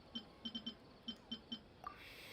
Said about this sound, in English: as soon as that beep sounded, more new spaces appeared